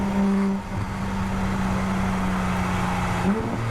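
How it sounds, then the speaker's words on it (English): A Toyota Supra race car lapping Ridge Motorsports Park, its engine droning loud and steady in a sustained note with a brief dip and shift near the end, heard close from inside the car. "So at this point, I'm just circling the track, burning tires and gas."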